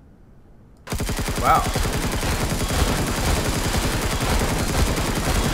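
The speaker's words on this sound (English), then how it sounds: "Somebody took a pot shot at me." Sustained rapid gunfire in the sci-fi survival game Empyrion, a dense loud burst that cuts in abruptly after near silence and continues without pause, with a brief startled exclamation from a player.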